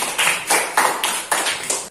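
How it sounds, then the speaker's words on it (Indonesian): A class of schoolchildren claps in quick bursts, about six sharp rhythmic rounds of applause close by with no talking. "Tepuk tangan untuk kita semua."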